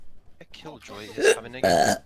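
A woman lets out a burp while talking, a short, throaty gulping belch folded into her speech.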